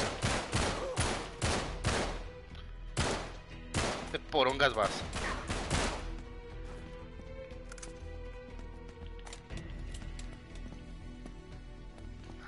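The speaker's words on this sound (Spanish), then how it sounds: "Después de mucho tiempo ya hay disparos" Rapid bursts of gunfire from a shootout in the PS4 action game Uncharted with Drake: loud, dense volleys and machine-gun rattles, then sparser shots, with someone talking over the battle.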